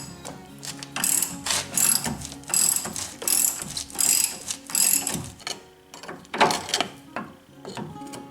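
Ratchet clicking in quick repeated bursts while tightening nuts on a leaf spring of a 1999–2004 Nissan Xterra, close and fairly loud, with short pauses between runs of pawl clicks.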